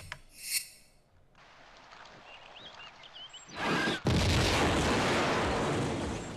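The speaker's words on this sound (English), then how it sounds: "Awesome explosion." A loud explosion in the Tomb Raider 2 video game's Venice level: a sharp boom bursts in after a quiet stretch with faint game sounds, then a sustained roaring blast rumbles on to the end, with no talk over it.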